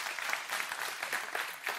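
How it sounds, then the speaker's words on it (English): Church audience clapping, a short burst of brisk, fairly dense applause from a room full of people, moderately loud and close, with no voices. "You guys keep clapping, I'll keep talking."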